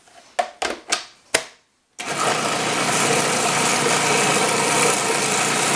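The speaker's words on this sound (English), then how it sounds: "it's just easier to keep doing it while the motor is running" A food processor motor runs steadily while making Greek taramosalata with carp roe and bread, starting after a few sharp knocks and a brief pause, then holding a loud continuous whirr to the end.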